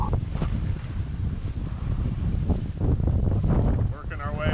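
Sailboat tacking into the wind on a rough winter passage in the Grenadines, with steady loud wind roaring across the microphone and water rushing along the hull throughout, plus occasional flapping and creaking from the rigging.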